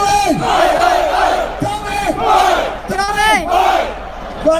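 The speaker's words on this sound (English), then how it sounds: "Bloody love this crowd, guys." A loud crowd at a London rally for Australia chants in rhythmic bursts of massed voices, swelling and falling in repeated waves close to the listener.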